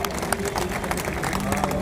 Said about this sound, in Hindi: इसलिए जोरदार एक बार इसके लिए तालियां आप सब लोग बजाएं